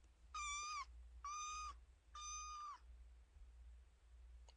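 Three drawn-out cat meows, evenly spaced and clear, with a faint low hum between them.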